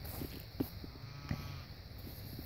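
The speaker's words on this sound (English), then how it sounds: "I think the goats are eating the weeds out of it." Goats grazing in a winter wheat field thick with weeds make a couple of faint, brief bleats set against steady outdoor background noise, with no one speaking.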